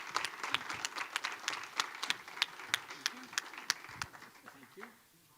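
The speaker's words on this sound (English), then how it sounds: "we can give them a round of applause." Audience applause greets Cleveland mayoral candidates Justin Bibb and Kevin Kelley as they come onstage at a town hall, moderate clapping with sharp individual claps standing out, tapering off toward the end.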